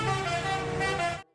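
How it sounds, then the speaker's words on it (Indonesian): A toy telolet bus horn sounds one loud, steady musical honk for just over a second on its own, then cuts off abruptly into silence. "Ada mobil bus telolet."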